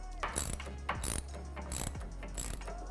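An upper bolt being tightened with a ratchet: repeated clicking ratchet strokes in several quick bursts, close and moderately quiet over a low steady hum.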